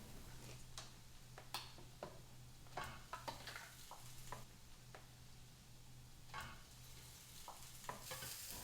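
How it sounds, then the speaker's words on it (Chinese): Minced garlic and ginger stir-fried in a wok, a steady oily sizzle broken by repeated scraping and clacking spatula strokes, close and fairly quiet, no talking. "同一个锅子不用洗，直接放入切碎的金高黑、蒜末、姜末一起爆香"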